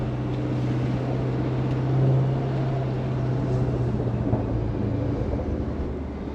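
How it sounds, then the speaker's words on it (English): A 2019 Jeep Grand Cherokee SRT with a Whipple supercharger and Borla exhaust drones with a deep continuous rumble and low exhaust burble, rising briefly in loudness, heard from inside or near the vehicle. "Love the sound of that Borla exhaust."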